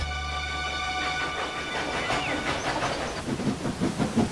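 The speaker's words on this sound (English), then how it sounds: "This is a steam engine, just like Thomas" Steam engine train on a railway track: a sustained whistle-like tone fades into rhythmic chuffing and clattering that grows more pronounced, close and fairly loud.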